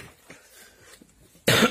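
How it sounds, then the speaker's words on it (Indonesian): A single harsh, loud cough bursts out abruptly near the end, close to the microphone, after a quiet stretch, during repair work on a 14-inch Panasonic television. "Maaf, ini batuknya udah lama belum sembuh."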